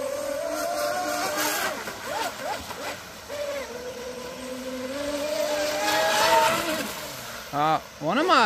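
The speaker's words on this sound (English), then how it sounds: "One of the motors is dying out." A small RC boat motor on a twin-motor catamaran whines at shifting pitch, revving and sagging unevenly before sputtering and cutting in and out near the end as one motor dies, over outdoor lake background noise.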